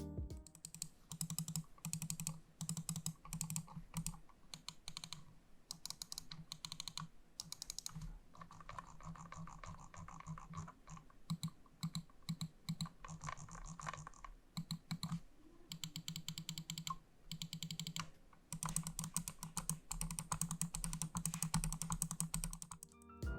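Rapid clicking from a Noir M1 gaming mouse with a paracord cable, a dense run of small sharp taps close up for over twenty seconds, with no talking.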